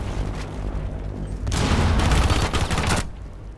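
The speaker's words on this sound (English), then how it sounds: "He does get quite a few shots onto Otto." Rapid gunfire bursts from a competitive video game match, dense volleys of shots swelling louder in the middle and trailing off, with no talk over them.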